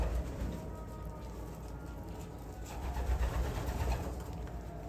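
Pigeons coo in a loft that holds about two hundred birds, a soft, layered murmur of overlapping calls with a low rumble beneath, rising slightly toward the end.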